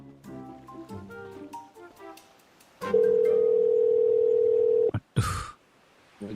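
A steady telephone dial tone holds for about two seconds at moderate loudness. Softer tonal sounds come before it, and a brief noisy burst follows.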